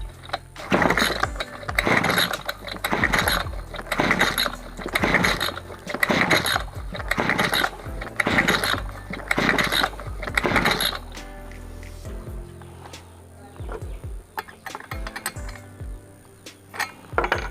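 A brushcutter engine with a starting problem is pulled repeatedly by its recoil starter, giving about eight rhythmic ratcheting pulls in a row, close and loud, without catching, followed by quieter scattered clicks.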